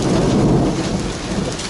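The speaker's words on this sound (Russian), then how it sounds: "сильнейший ливень, град, гремит." Heavy rain and hail pouring down in a forest during a thunderstorm, with thunder rumbling under a dense, loud, continuous hiss of water.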